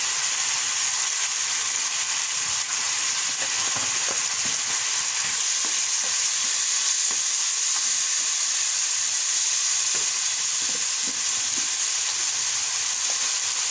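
Cumin powder and spices fry in a pan with a steady, loud sizzling hiss that holds evenly throughout, with faint scraping stirs beneath and no voices.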